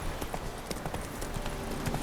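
Roach the horse galloping in The Witcher 3, a rapid, steady clip-clop of hooves at close range with no talk over it.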